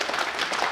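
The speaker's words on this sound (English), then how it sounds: "The noise from the crowd increasing in decibels as they realise a major upset could be on." Crowd noise in the arena at a 2018 World Cup of Pool quarter final, Philippines vs China B: a brief, loud, dense wash of murmuring and cheering with a hint of clapping.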